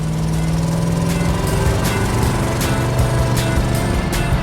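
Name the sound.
1971 Plymouth RoadRunner engine running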